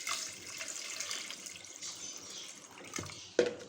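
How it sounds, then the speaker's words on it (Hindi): A jug of water poured into a normal-sized pot holding beef for shami kabab, a steady splashing stream running for several seconds and ending with a brief knock. "इसमें हम 1 जग पानी डालेंगे।"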